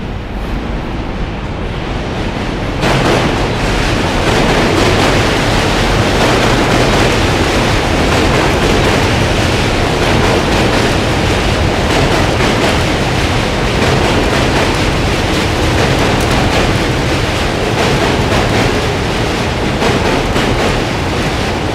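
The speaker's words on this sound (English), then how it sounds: "Waiting for the train to pass, but I mean it's definitely noisy by the Manhattan Bridge" A train rumbles across the Manhattan Bridge overhead on the Lower East Side of New York City, a loud, steady roar that fills the whole stretch after a sudden swell near the start, with no talking.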